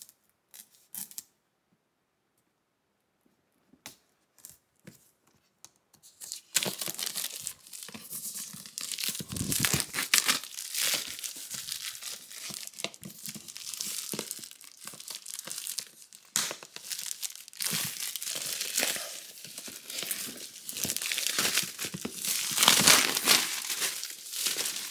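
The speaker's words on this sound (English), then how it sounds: "It is in shrink wrap, so we gotta cut that loose." Shrink wrap is cut and torn off an Asus ROG Rapture GT AXE16000 router box, close and loud crinkling, crackling and ripping plastic that runs continuously after a few quiet initial clicks.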